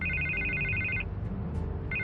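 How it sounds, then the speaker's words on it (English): Phone ringing in Batman: The Telltale Series video game, a loud electronic trilling ring lasting about a second, a pause with low background hum, then the ring starting again. "I can't get the phone to stop ringing."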